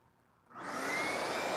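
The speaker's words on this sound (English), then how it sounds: "crank up this vacuum cleaner" Shop vacuum cleaner switched on in a woodworking shop, its motor spinning up from near silence in half a second into a loud, steady whining roar.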